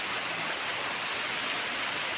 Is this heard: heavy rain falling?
yes